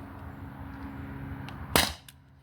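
A modified T4E HDP50 Gen 2 CO2 pistol fires a single sharp, loud crack close by after a quiet lead-in, followed by a brief fainter knock.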